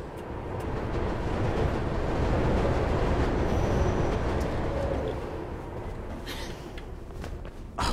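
Train rumbling past in the parkour video game Mirror's Edge, a loud broad roaring wash that swells and slowly eases off, with no talk over it.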